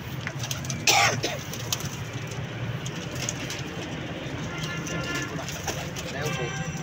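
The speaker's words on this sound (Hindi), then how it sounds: "ये हमारे जोड़े वाले कबूतर हैं" Soft cooing of paired pigeons on a rooftop under steady background rumble, with a brief sharp bird call near the start.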